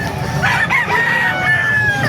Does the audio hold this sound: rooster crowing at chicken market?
yes